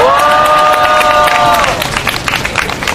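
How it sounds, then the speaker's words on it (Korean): Crowd at an outdoor candlelight rally supporting the SsangYong Motor workers' strike at Daehanmun claps and cheers, a loud, steady wash of applause and shouts that follows a brief sustained voiced call at the start. "함께 하신 동지들의 힘찬 박수와 함성으로 시작하도록 하겠습니다."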